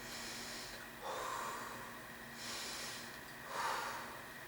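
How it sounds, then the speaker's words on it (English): Breathing during a knee-pain physiotherapy exercise: three soft, nasal, rhythmic breaths a little over a second apart, close by over a steady background hiss, with no speech. "Breathe."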